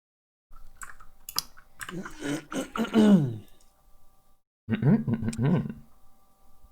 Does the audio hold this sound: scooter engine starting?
no